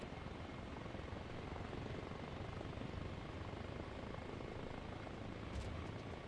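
A helicopter flies in Arma Reforger, a faint, even, continuous rotor and engine drone with no change in level and no talk over it.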